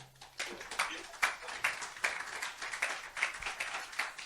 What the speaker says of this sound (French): C'est Madame Simone Hérault qu'on applaudit